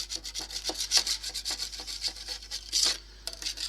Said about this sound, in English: I'll let the knife run against the paint.